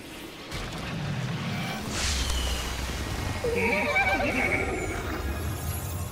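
A horse in the video game Destiny 2 lets out a wavering, shrill whinny midway through, over a low rumbling game soundscape.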